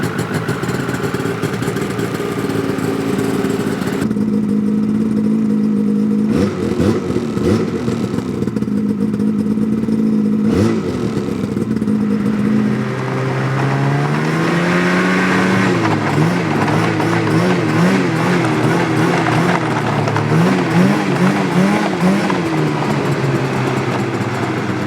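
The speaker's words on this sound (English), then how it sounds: "Although it's a modern sled, because it's not the 600 E-Tech, it kind of has that metal clanky sort of rattly" Ski-Doo MXZ NEO+ snowmobile engine running with a metallic, clanky, rattly tone: a steady loud drone that climbs and falls as it revs, heard close and continuous with no talk.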